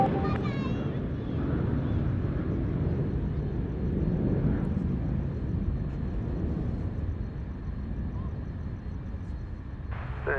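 An Airbus A380 landing on runway 34 left at Sydney Airport at night, a broad low jet roar rumbling steadily from a distance, with radio chatter and voices over it.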